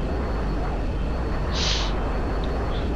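Fighter jet in Battlefield 2 flying with a steady, loud broadband engine roar throughout, with a brief higher whine rising partway through.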